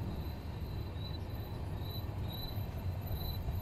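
The 13125 Kolkata–Sairang Express rolls into Sairang station in Mizoram with a steady, close rumble of wheels on track. Thin high metallic squeals recur faintly above the drone, and no one speaks.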